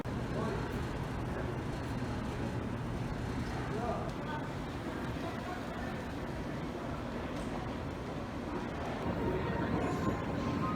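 Steady rumbling and rattling of a moving airport AirTrain people mover car, with indistinct voices murmuring underneath throughout.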